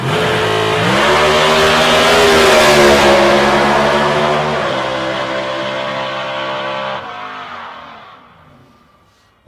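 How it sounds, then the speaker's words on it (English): A 288 cubic inch small block Chevrolet V8 super comp drag car screaming down the strip at a night qualifying event, loud rising revs with a gear change, then fading into the distance. "running a 288 cubic inch small block Chevrolet. Another one of these super comp cars that just revs like mad."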